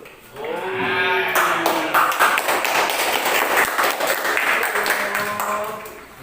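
A classroom applauds group 2 during a civics lesson: a broad, steady wash of clapping fills the room for several seconds, with children's voices and shouts mixed in over it.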